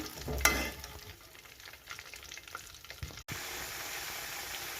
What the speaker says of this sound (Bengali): আমগুলো তেলে আগে সুন্দর করে কষাই নিয়ে